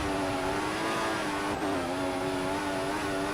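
Formula 1 car engine in the F1 2016 racing game with an F1 2014 mod, at Australia: a steady, loud high-pitched whine held throughout, dipping briefly mid-way before climbing again, with no talk.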